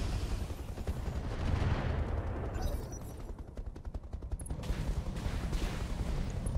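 Weapons fire in the mech video game Roguetech rumbles as a dense, continuous barrage, steady and moderately quiet, with a short dip in the middle before the shooting swells again.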